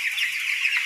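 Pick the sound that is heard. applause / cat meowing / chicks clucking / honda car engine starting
chicks clucking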